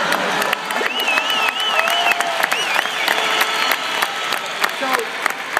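An audience at a business training session breaks into sustained applause, dense clapping with some cheering and whistles, fairly loud and continuous throughout.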